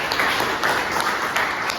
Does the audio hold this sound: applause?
yes